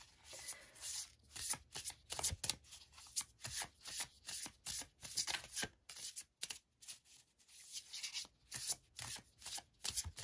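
A deck of Seven Energy Oracle cards is shuffled by hand in repeated rhythmic bursts of papery riffling, close and fairly quiet, with no one speaking.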